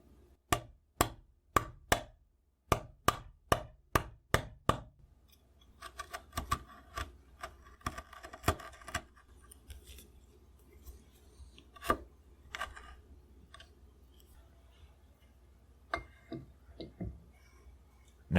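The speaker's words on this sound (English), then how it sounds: "I can get more precise with the chisel" A chisel cuts into a wooden military rifle stock while inletting the action: about a dozen sharp, evenly paced taps open the clip, then come scattered softer scraping cuts and occasional louder strikes, close and with no talk.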